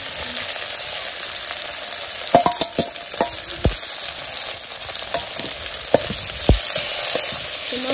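Ginger, garlic and onion paste sizzles steadily in a hot pan, a constant bright frying hiss broken by several sharp clinks and scrapes of a spoon stirring against the metal.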